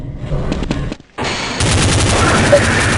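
Gunfire in a video game sounds as loud, sharp bursts, with a brief drop to near silence before sustained rapid fire takes over.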